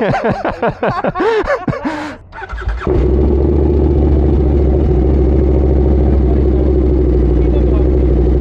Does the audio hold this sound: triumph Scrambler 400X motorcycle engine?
yes